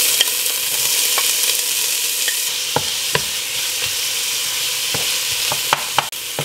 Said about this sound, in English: I'm going to add a little bit of vegetable oil so I can saute my veggie.